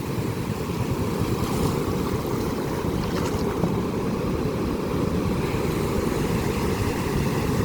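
Sea waves surging against the shore, a loud, continuous wash of water and rumbling surf with wind buffeting the microphone, steady throughout with no voices.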